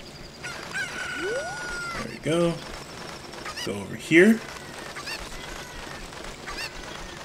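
Short clucks and honk-like squawks from a chicken in The Legend of Zelda: Ocarina of Time, scattered across a few seconds. Game music plays underneath, and someone talks briefly.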